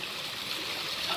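Water rushes steadily at a hidden waterfall and stream in Gaya, Bihar, a loud, close, continuous broadband roar with no voices over it.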